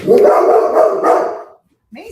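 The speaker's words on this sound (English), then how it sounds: "Sorry. Dog." A dog named Maisie barks loudly and close, reacting to a delivery person at the door, in a rough run of barks that stops abruptly before a voice starts speaking.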